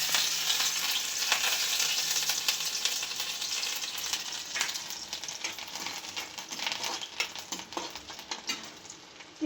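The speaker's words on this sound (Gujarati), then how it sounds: "તેમાં 1 ચમચો તેલ લીધું છે. તેની અંદર લીલા મરચાં નાખશું." Green chilies sizzle and crackle in a spoonful of hot oil, a dense, steady frying hiss with scattered pops and spits, close and continuous, fading slightly toward the end.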